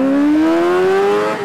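A Honda Fan 125 motorcycle fitted with a Hornet engine revs up close and loud, its engine pitch climbing smoothly over a moment and then easing off.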